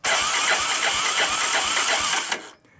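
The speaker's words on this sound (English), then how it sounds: "I'm just gonna hit the starter button and see if we got spark" A 1985 Honda ATC250ES three-wheeler's starter motor whirs and cranks the engine steadily in close, loud, rhythmic pulses for over two seconds, then cuts off into near silence without the engine catching.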